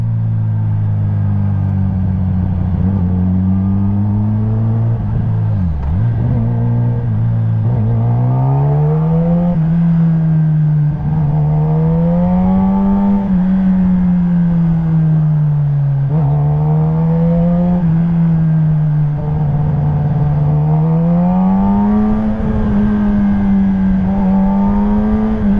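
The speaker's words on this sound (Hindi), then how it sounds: "अभी तो बड़े लो RPMs पे चला रहा हूँ बाइक।" A Kawasaki hyperbike engine runs close and loud at low revs, a deep steady drone that rises and falls gently with small throttle changes and never climbs to a high rev.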